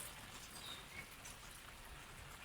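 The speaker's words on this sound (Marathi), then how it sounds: "बारीक बारीक पडतो इकडे पाऊस." Light rain falls steadily over a village, a soft, even patter with no clear individual drops, faint and constant throughout.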